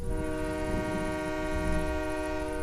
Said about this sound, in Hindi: ट्रेन की सीटी यहाँ